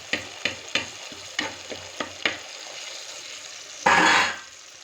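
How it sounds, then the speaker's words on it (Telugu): Fish curry of korameenu in a hot pan, with several clinks of a spoon against the pan, then a sudden loud rush and hiss as tamarind juice pours in and quickly fades back to a low simmer. "ఇప్పుడు మనం ఇందులో చింతపండు పులుసు పోసుకుందాము."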